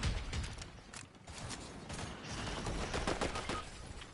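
Gunfire in Fortnite crackles as a steady, fairly faint stream of overlapping shots and impacts, dense and busy throughout with no clear pauses.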